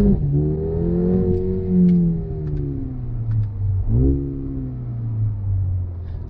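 A 306 HP Mercedes engine revs and settles, heard muffled from inside the well-insulated cabin, its tone rising and falling in smooth sweeps.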